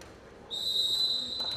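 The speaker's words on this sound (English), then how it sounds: "referee blows the whistle" A volleyball referee's whistle at a men's Federation Cup match between Services and Assam: one long, steady, shrill blast begins partway in and holds to the end over faint arena murmur.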